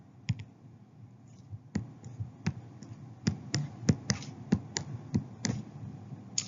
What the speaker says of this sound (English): when we type this in the calculator